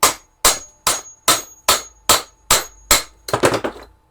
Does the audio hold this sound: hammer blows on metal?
yes